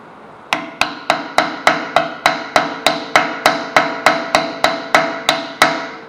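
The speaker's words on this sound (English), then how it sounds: "We're going to use our hammer here." Steady, rapid metallic hammer blows seating a Taurus rear hub bearing, around seventeen evenly spaced strikes ringing loudly with a short resonant tail, no voices.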